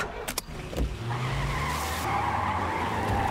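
A car pulls away with tyres skidding and squealing, a loud, sustained screech over engine roar after a few short knocks at the start.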